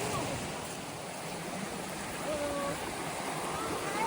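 Steady broadband rush of a flowing river beside the Appalachian Trail near Erwin, constant and fairly close throughout, with no clear voices over it.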